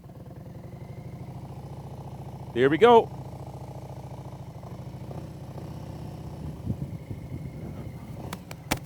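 A motorcycle engine idles and chugs steadily nearby, with a brief spoken remark and a short burst of higher-pitched sound partway through.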